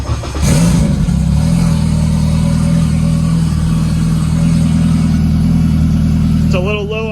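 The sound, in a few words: turbocharged Honda K24 engine car running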